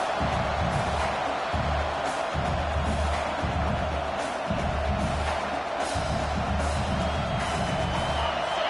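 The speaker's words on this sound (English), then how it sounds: "Listen to the crowd energy here in the early going." A large stadium crowd at an American football game roars in a steady, dense wash of cheering and noise, continuous and far-reaching with no clear individual voices.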